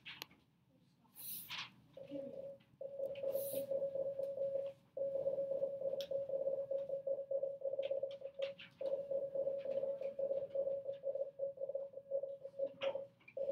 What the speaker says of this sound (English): This is what Morse code sounds like.